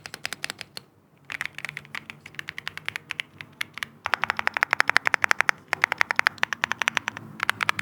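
Rapid clacky typing on a stock Monsgeek M1 V5 mechanical keyboard, close up, in uneven bursts with short pauses, growing louder and denser toward the end.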